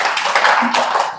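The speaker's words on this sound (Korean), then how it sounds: "박수 한번 쳐줍시다." An audience at a Korean Seon meditation lecture applauds, a loud, dense, continuous clapping from a crowd lasting just over a second, with no voices on top.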